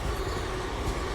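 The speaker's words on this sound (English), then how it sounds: "And there's a train." A train passes in the distance outdoors among wildflowers, heard as a faint, steady rumble with no distinct clacks or horn.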